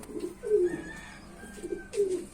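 Pet pigeons coo softly in a loft, a few low throaty calls repeating in short rolling phrases, close by with no talk.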